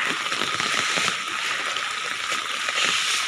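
Floodwater in Barangay San Pedro, Duero, Bohol, running as a steady broad wash of flowing and sloshing water throughout, close and fairly loud, with no clear speech.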